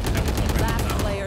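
Rapid gunfire from a tactical shooter game, Valorant, a dense close burst of shots filling the whole moment with a steady, loud crackle and faint tonal game effects.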